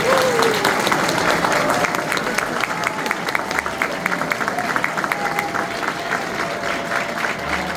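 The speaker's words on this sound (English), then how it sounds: "One more round of applause." Sustained applause from a crowd at a US citizenship oath ceremony, dense steady clapping filling the room for the whole stretch, with faint voices mixed underneath.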